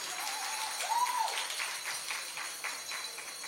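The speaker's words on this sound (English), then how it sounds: "Give her a big round of applause," An audience at a Jamaican youth gathering gives a round of applause for the Minister of Education, a dense, steady patter of many hands with a short whistle rising briefly early on.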